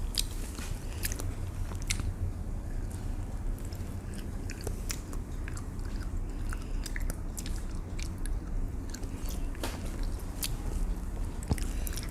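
Chewing on chicken with black bean sauce, close, soft wet mastication with small bites and squishes repeating steadily and alone, no talking.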